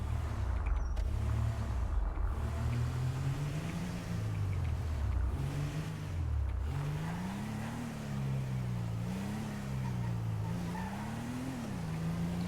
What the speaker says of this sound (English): We're gonna drive this car now.